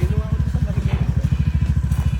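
A motorcycle engine runs close by with a steady, rapid pulsing throb, revving repeatedly without pause for the whole stretch; no one talks over it.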